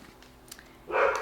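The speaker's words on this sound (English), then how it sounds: "Sorry, that's my dog Max." Max, a pet dog, lets out one short bark near the end, loud and close after a quiet indoor stretch.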